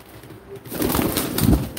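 Tumbler pigeons coo in low, throaty bursts that swell in the second half, close by and fairly loud over a faint background hiss.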